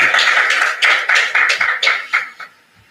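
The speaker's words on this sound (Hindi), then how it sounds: "सभी तालियों से" Applause from a gathered audience at a spiritual community event, a few seconds of rhythmic clapping bursts that grow sparser and fade out toward the end, with no talk over it.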